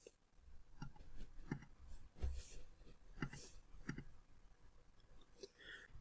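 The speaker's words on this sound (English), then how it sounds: "select Domain Name, and click on Delete Domain" Soft computer mouse clicks during work in a web console, a steady series of about eight light, close taps spaced roughly half a second apart in a quiet room.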